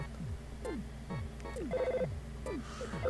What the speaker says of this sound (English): You see that phone? That's ridiculous. Ness answered the phone.